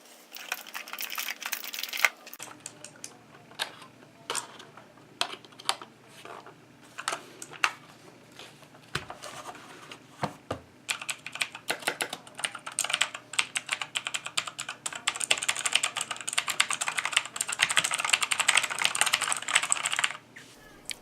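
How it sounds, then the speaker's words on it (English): Typing on an Amazonbasics mechanical keyboard with clicky Outemu blue switches, a long run of rapid, crisp clacking keystrokes close to the microphone, irregular at first and then denser and faster toward the end. "in a moment you'll get to hear the actual keys and what they sound like"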